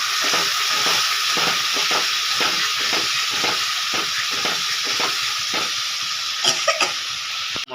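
Mutton curry masala stirred and frying in a pan, giving a loud continuous sizzling hiss with a regular scraping rhythm of the spoon, heard up close without talking.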